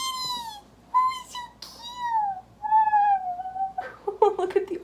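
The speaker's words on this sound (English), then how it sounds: "Oh, it's a cutie kitty." A white cat meows several times in a row, clear, close and fairly soft, with short drawn-out calls separated by brief pauses and a busier rustle at the end.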